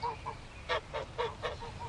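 Geese kept in a backyard honk in a quick, uneven series of about seven or eight nasal calls. The calls sound fairly close, over a soft background in a radio-drama scene.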